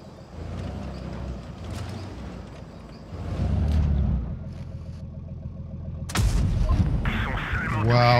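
Tank cannon fire in World of Tanks Blitz: heavy booming blasts and rumbling engine noise, with one sharp, loud shot near the end followed by ringing debris.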